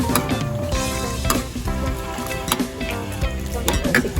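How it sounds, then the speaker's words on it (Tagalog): Coconut milk (kakang gata) with chili and garlic cooking in a pan, a steady sizzle and bubbling broken by repeated clinks and scrapes of a utensil stirring against the metal. "lutuin muna natin si kakang gata"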